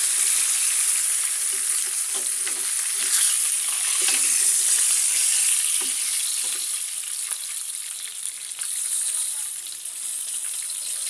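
Fish fries in oil in a pan, a steady, bright, crackling sizzle with small pops, close and continuous, with no voices.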